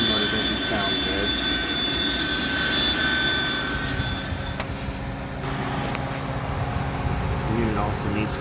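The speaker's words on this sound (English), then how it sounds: "Fan motor doesn't sound good." A faulty fan motor whirs steadily inside a Kairak refrigeration unit, a continuous mechanical drone with a high whine on top, close and loud throughout, with occasional clicks and rattles.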